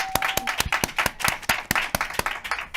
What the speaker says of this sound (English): you guys give a round of applause for Krista L. Emerson